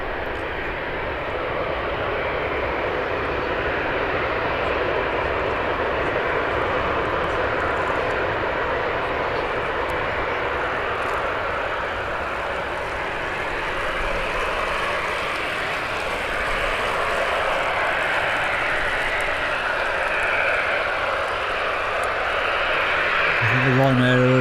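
Airliners, including A321neo jets, arrive and depart at Birmingham airport with a steady, broad jet-engine roar that stays loud and fairly constant for the whole stretch, and a voice talks over it at times.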